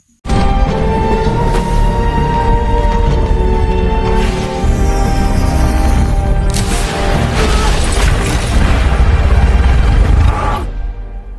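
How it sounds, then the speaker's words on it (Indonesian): A film explosion as a rocket launcher round hits a room: a loud, sustained roaring blast with crashing debris and rumbling low end that holds for about ten seconds before cutting off. "anak buahnya berhasil melepaskan roket launcher ke arah ruangan Lucy"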